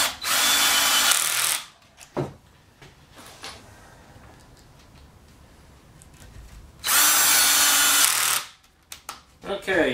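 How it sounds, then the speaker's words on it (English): Power drill drives pocket hole screws into a wooden bookcase shelf: two loud, close whirring bursts of about two seconds each, separated by quieter shuffling and light clicks. "now I'm going to drive the screws in with some pocket hole screws"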